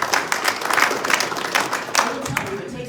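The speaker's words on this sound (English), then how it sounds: "So I think we should all applaud that." Brief crowd applause for candidates at a Minnesota Secretary of State candidates' debate, a steady patter of many hands with talking over it.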